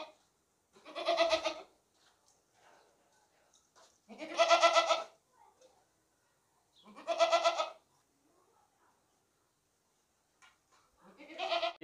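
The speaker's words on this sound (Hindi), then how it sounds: "ये बहुत ही ज़बरदस्त बकरे हैं" Goats bleat at a sacrificial livestock market, four loud, drawn-out calls spaced a few seconds apart, close by, with quiet gaps and faint background noise between them.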